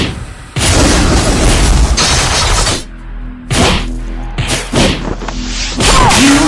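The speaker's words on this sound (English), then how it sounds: "Your team has destroyed the turret!" A turret explodes in a MOBA video game, heard as loud booming blasts with whooshing impacts in rapid bursts, broken by short pauses and sharper hits.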